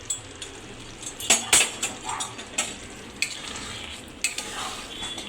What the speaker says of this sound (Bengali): এবার একটুখানি নেড়ে চেড়ে নেব।